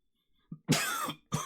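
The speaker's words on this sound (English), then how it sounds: "I've been coughing like crazy." Coughing from a person, close and harsh: a short cough, then a longer rasping fit, followed by the start of another burst, with no talk.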